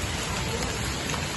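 Steady rainfall fills the short stretch with a dense, even hiss of drops striking surfaces, continuous and fairly loud with no clear voices.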